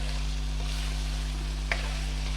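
Chicken sizzles in a pan before whisked yogurt goes in, a steady frying hiss over a constant low hum, with a single faint clink near the end.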